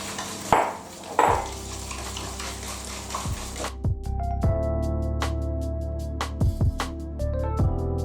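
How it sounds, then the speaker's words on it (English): Eggs and sugar are whisked in a bowl for a peanut butter and banana brownie batter, giving a quick run of rhythmic clinks and taps against the bowl after a couple of louder knocks. "Then we'll whisk that through."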